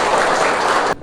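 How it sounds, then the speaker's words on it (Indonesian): Classroom of students applauding together during a religious education lesson, a dense, steady clatter of clapping hands that cuts off abruptly near the end. "tepuk tangan semuanya."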